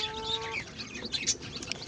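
A mother hen and newly hatched chicks at a feeding spot, with soft clucks and high, thin chick peeps close by, scattered and irregular over quiet background.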